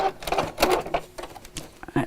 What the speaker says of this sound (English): while I'm just sewing up and down in straight lines